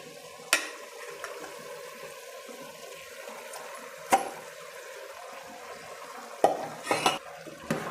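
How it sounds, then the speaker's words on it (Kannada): Ground masala added to a cooking pot of dal, with a soft steady background murmur broken by a few sharp clanks and scrapes as a spoon stirs against the pot. "ರುಬ್ಕೊಂಡಿರೋ ಮಸಾಲೆನ ಸೇರಿಸ್ತೀನಿ."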